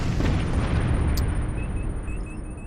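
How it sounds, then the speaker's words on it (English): Torpedo launch in the Star Trek Bridge Crew VR game: a deep, rumbling boom that fades over nearly three seconds, with a faint high electronic tone on top. "let's fire out some torpedoes"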